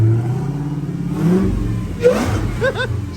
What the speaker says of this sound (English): He's revving it already.